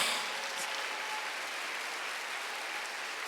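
A church congregation applauds during a Sunday worship service, sustained broad clapping heard at moderate distance and steady level throughout, ending with a brief sharp sound.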